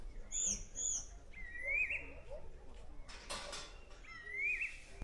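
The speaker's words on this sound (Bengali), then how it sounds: "এই পাহাড়ে দাঁড়িয়ে পুরো নিস্তব্ধ জায়গায় এরকম পাখির ডাক শোনা কিন্তু একটা অন্য রকম অনুভূতি" Birds call across a quiet hillside in the Darjeeling hills, with repeated clear, rising whistled notes and some soft cooing, against a low background hum and a brief burst of rustling noise in the middle.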